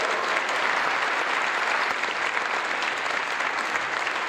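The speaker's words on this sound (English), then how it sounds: "why don't we give her a big cheer?" An audience bursts into loud, steady applause and cheering at a charity event, a continuous dense clapping wash that holds evenly from start to finish.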